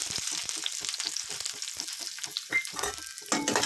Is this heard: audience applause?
no